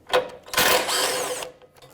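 A ratchet spins a 10mm bolt loose from beneath the front bumper of a 2009-2015 Honda Pilot during A/C condenser replacement, giving a close, loud burst of rapid clicking and metallic rattle lasting about a second after a brief tap.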